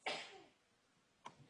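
A single person sneezes once, sharp and fairly close, in a quiet room during a class session, followed by a brief faint throat sound.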